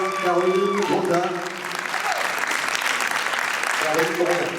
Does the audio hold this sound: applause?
yes